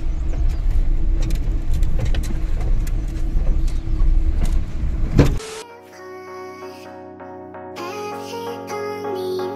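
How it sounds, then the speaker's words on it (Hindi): A car driving off-road on a rough track near Pulwama, heard from inside as a steady, loud rumble with scattered knocks and rattles for about five seconds before the sound cuts to something quieter and more tonal. "हमारी गाड़ी की ऑफ रोडिंग हो रही है ये ऑफ रोड है पूरी"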